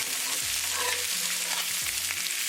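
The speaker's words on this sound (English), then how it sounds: "It's always a good idea to cook these salmons in non-stick pan." Salmon sizzling in a non-stick skillet, a steady close hiss of frying with no voices over it.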